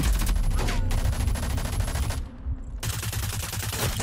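Rapid bursts of automatic gunfire crackle loudly and almost continuously during a Rogue Company duos tournament match, with a brief lull in the middle before the firing resumes.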